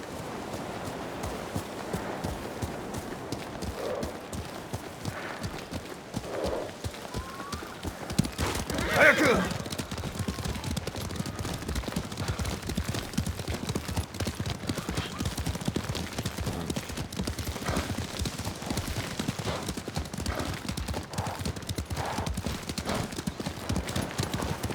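Horses gallop with steady, rapid clip-clop hoofbeats throughout a Ghost of Tsushima game scene, with an occasional whinny and a game character's voice speaking over the continuous hooves.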